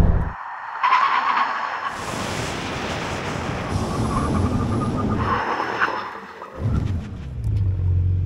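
BMW M3 and Porsche 911 Turbo S under a full emergency brake stop: loud engine rumble and roaring tyre skid noise for several seconds, then winding down, no talk.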